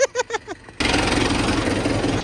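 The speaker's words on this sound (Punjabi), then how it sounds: "ਟਰੈਕਟਰ ਆ ਚੁੱਕਿਆ, ਹੁਣ ਆਪਾਂ ਫਟਾਫਟ ਗੇੜੇ ਲਾਈਏ" A tractor engine runs close by with a steady, rumbling drone that starts abruptly after a brief moment of talking.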